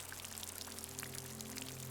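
Light, steady rain pattering softly with a continuous fine hiss and a few brighter drips, easing gently over a calm outdoor setting near a river, with a low hum underneath.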